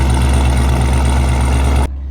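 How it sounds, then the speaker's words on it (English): A Chevy Camaro V8 with a nearly straight-piped exhaust rumbles loudly and steadily for almost two seconds, then cuts off abruptly, leaving a faint low hum. "if you hear that exhaust, it's my brother's basically almost straight piped Chevy Camaro V8"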